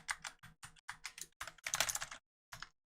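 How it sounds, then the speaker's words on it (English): Quick bursts of typing and key clicks on a computer keyboard at close range, a brisk run of clattering keystrokes followed by a short pause and a final few taps. "Just start clicking everything on this damn keyboard till it works."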